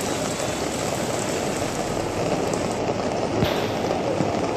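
Continuous heavy rain falls over a waterlogged area in Kharibari, making a dense, steady wash of drumming drops on surfaces throughout.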